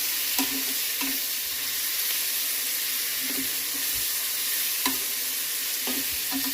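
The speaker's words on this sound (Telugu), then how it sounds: "కొంచెం టమాటాలు ఈ మామిడికాయ కూడా మగ్గేదాకా వేడి చేద్దాం" Tomatoes and raw mango frying in a pan, a steady hissing sizzle with several soft scraping stirs at uneven intervals, close and moderately quiet, with no talking.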